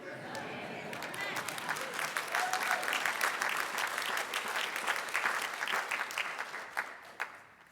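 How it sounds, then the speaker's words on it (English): Congregation applauding at the installation service of a church minister, a broad wash of many hands clapping that swells after a quiet start, holds steady and thins out toward the end. "Yeah, you can clap."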